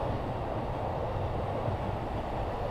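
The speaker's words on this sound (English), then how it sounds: "Check out that train. That one was like a little loud." A train in Japan passes by with a loud, steady rushing rumble of wheels and carriages that stays even throughout.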